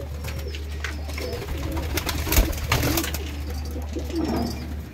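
Pigeons for sale coo in soft, repeated calls close by, with fluttering and shuffling movement over a low steady hum.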